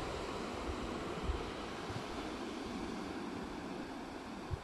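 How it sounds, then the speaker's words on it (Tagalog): Sea waves wash against the coast at Dinapigue, Isabela, a faint, steady surf rumble mixed with wind buffeting the microphone, with small gusty bumps and no voices. "Lakas ng tunog ng dagat na."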